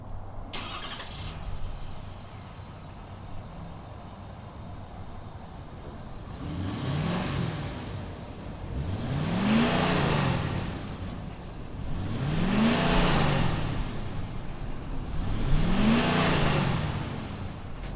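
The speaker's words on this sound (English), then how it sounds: "Power Stroke turbo diesel, such an iconic name with the Super Duties. Let's go ahead, fire this up" A 2019 Ford F-250 Super Duty's Power Stroke turbo diesel engine cranks over and fires, then revs up in four rising surges with pauses between, loud and close, no talking.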